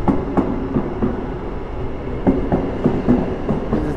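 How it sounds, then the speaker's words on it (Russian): A Tbilisi-Batumi double-decker express train pulls out of the station, with steady rolling rumble and regular clickety-clack wheel beats over the rail joints, close and continuous, with no voices. "поезд Тбилиси-Батуми, скорый поезд, двухэтажный, готовится к отправлению"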